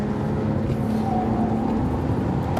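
Bentley Continental Supersports engine on the Nurburgring, a steady loud broadband roar with a low droning tone that barely shifts, no clear downshift blip.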